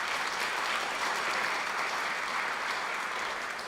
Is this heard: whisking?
no